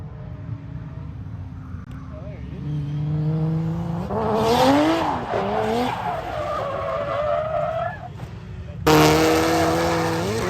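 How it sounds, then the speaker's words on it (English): A car drifting at a Friday night drift event sends its engine revving and bouncing between high pitches while the tires squeal and skid, ending in a sudden louder burst of revs. "What's this jobber doing out here in the driveway, ripping skids everywhere, mate?"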